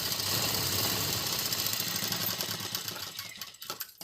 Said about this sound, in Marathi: ती इथे अशी शिलाई मारून घ्यायची